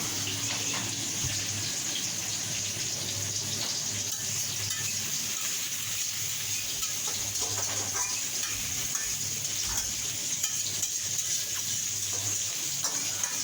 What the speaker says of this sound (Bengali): তো এখন আমরা রুই মাছগুলো ভাজতেছি